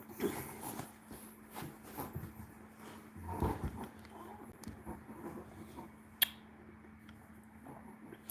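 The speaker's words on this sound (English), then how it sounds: "Every time I seem like I get online, especially if it's late at night, he starts barking." A dog indoors at night makes scattered short whines, whimpers and low growl-like noises at a moderate level, with a sharp knock near the end.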